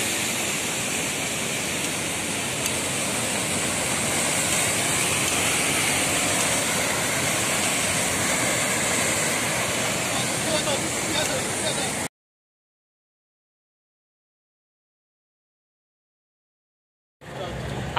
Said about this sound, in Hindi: ये है कांगेर घाटी वाटरफॉल, वहीं से उतर के आया हूं मैं नीचे।